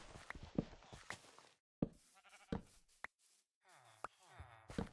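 Sheep bleating in a video game, several short cries scattered between other game sounds and brief pauses, fairly close and moderately loud.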